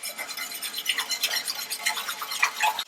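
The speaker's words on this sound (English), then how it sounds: "going to add in a little bit of that flour mixture at a time while stirring it in" A spoon stirs flour mixture into gravy in a pot, making soft continuous scraping and swishing close by with a gentle irregular rhythm.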